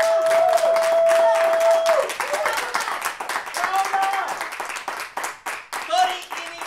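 Audience applause from a crowd at a Slovak public speech, dense clapping with a few cheers, loud and sustained at first then thinning out into scattered claps.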